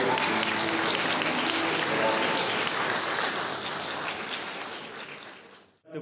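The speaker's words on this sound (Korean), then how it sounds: "박수 부탁드리겠습니다" A large wedding ceremony crowd in a hotel sky garden hall applauds in a dense, steady roar of clapping that holds for several seconds, then tapers and cuts off near the end.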